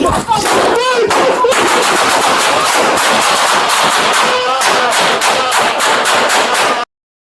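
Rapid gunfire crackles in a tense police encounter, loud close bursts of shots in quick succession that continue almost without a break, mixed with shouting voices.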